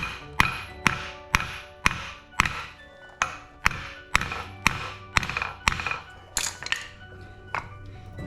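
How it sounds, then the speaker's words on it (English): A hammer lightly taps the U-joint cap on a Jeep JKU axle, about fourteen even, ringing metallic strikes in a steady rhythm, close and clear, with no talking. "take your hammer, lightly tap here"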